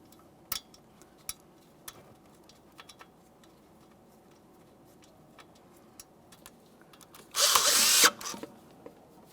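A ratchet spins a 10mm-headed mounting bolt on a 2014-2019 Toyota Corolla front brake dust shield, with one short, loud buzzing burst near the end after a few scattered faint clicks.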